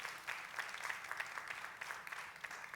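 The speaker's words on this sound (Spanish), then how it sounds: "vamos a darle un aplauso al Señor por eso" Church congregation applauding during a Spanish-language service, a steady wash of clapping at a moderate, fairly distant level with no voices over it.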